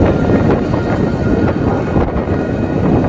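A train rumbles steadily near the railway station in Rajshahi, Bangladesh, a continuous loud rolling drone with some wind buffeting and no talk.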